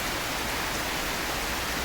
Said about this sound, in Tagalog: yung sound pa lamang na tumutulos sa bubong ng malakas na ulan ay siguradong magpapatulog na sa inyo